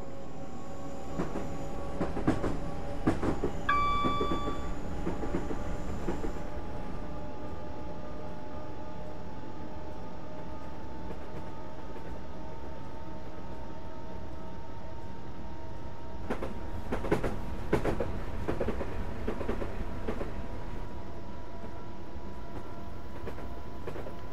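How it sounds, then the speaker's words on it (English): Train passing in Train Simulator 2013, a steady rumbling rail roll with a brief tonal horn-like note early on and a burst of clattering wheel noise near the end, moderately loud and without talk. "Train going by right there."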